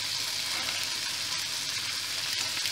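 Chickpeas and carrot fry in a pan with kecap manis, giving a steady, close sizzle and crackle that holds evenly throughout, with no voices.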